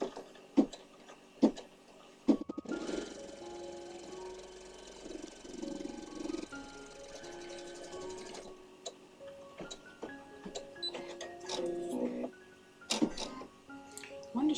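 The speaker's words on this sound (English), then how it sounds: "We're going to run a stitch all the way around to tack your backing down." An embroidery machine runs a tacking stitch around a quilt's backing, giving a steady mechanical whir with ticking and clicking that starts and stops in stretches, fairly close and moderately loud, with no talking over it.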